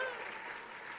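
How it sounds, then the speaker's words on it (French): A brief stretch of crowd applause for young performers at a regional finals show, a dense, distant wash of clapping that stays even, with a faint voice mixed in. "j'aimerais ça qu'on fasse une dernière grande main d'applaudissements pour tous les jeunes qui ont passé avant moi ce soir"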